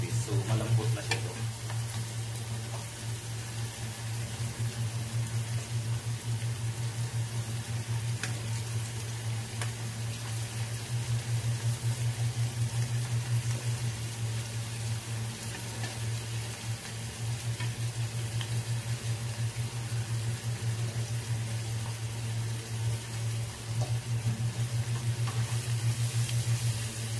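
Thin slices of beef tongue sizzle steadily in a frying pan, a continuous close crackle with an even low hum underneath and no talking.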